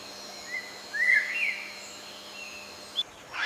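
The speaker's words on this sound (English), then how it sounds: "Above the canopy, the iconic scarlet macaws." Scarlet macaws calling above the Amazon canopy, a few brief, faint, distant squawks and chirps against a quiet background.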